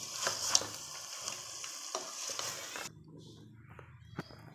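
Spice powders being stirred in a hot pan for Kadappa chicken curry give a continuous frying sizzle with scraping stirs; the sound quiets after about three seconds, leaving softer crackle and a few clinks.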